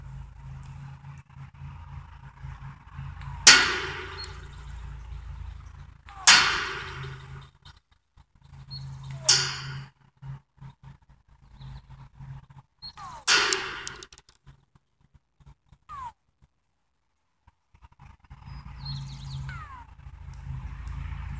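Four flicked rocks zip past in sharp, bullet-like whizzes spaced a few seconds apart, each a quick loud snap fading away, then fainter whirs, against quiet outdoor background.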